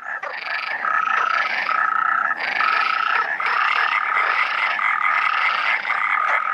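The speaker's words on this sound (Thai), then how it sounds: "กบต้นไม้ยุโรปมีถุงลมสร้างเสียงเพียงอันเดียวที่จะทำให้มันเป็นที่ได้ยิน" A dense chorus of European tree frogs calling in spring on the Iberian Peninsula, rapid rasping croaks overlapping in steady pulses, loud and close with no other sounds.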